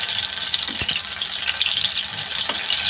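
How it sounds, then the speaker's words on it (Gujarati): Surti tomato pakoda fry in hot oil with a dense, steady sizzle and faint crackles, close and continuous without talk. "ટામેટામાં પાણીનો ભાગ હોય ને એટલે થોડો અવાજ આવે."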